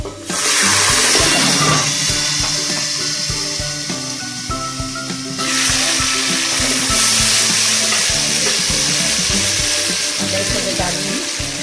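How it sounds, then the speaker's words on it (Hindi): Ingredients for degi pulao fry in a pan, with steady loud sizzling that surges fresh around the middle, close and continuous with faint stirring under it and no talking. "फ्राई हो रहा है, 1 सेकंड 2-3 सेकंड तक लाइट ब्राउन हो जाए।"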